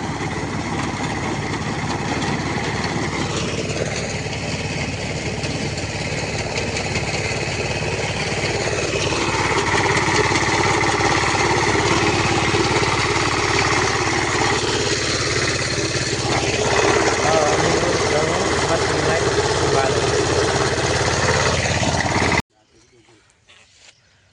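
A diesel farm machine runs at harvest time, its engine drone steady and loud for over twenty seconds beneath voices before it cuts out abruptly, leaving a faint hush.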